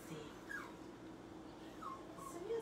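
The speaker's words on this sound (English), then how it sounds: "Again, sorry for the dog barking." A dog shut away in another room of a home gives several high, thin whimpers and small yips, spread unevenly over a few seconds, faint and somewhat distant against a quiet room hum.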